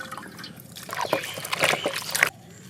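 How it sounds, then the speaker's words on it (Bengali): Stingray fish pieces washed in hot water, with close splashing, sloshing and trickling that grows busier for about two seconds, then stops abruptly, leaving only a faint background. "এরপরে আমরা গরম জলে আবার একটু ভালো করে ধুয়ে নেব"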